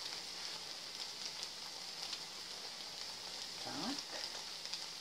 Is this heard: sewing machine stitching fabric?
no